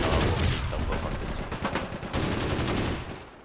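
Rapid bursts of nano gun fire in APB Reloaded, dense overlapping shots rattling in quick succession at moderate distance, continuous for a few seconds before thinning out.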